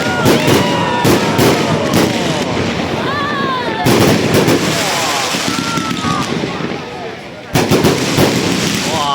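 Fireworks display at night, with rapid crackling bursts and booming reports overlapping continuously, loud and close, briefly pausing before another volley; excited voices and whistling rockets mix in.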